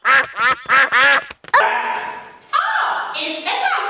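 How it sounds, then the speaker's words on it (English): Cartoon ducks quack loudly in an animated Peppa Pig painting scene, a few nasal calls following a short burst of character speech, with the quacking carrying to the end of the clip. "Oh, it's a duck!"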